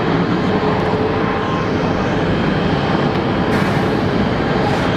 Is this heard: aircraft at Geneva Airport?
yes